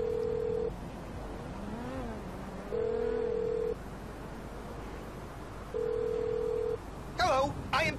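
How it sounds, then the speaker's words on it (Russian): Telephone dialing inside Grand Theft Auto V: three bursts of steady dial tones spaced a few seconds apart, with someone talking over the call, then a short sharp electronic chirp and a ringing phone at the end. "Давайте Беверли позвоним"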